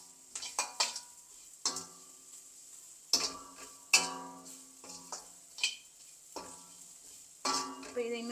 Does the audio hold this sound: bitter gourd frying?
yes